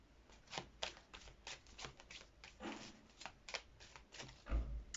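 Tarot cards are shuffled by hand on a table in quick riffling bursts, about a dozen short papery flutters spaced irregularly, close and crisp, with a soft thump near the end.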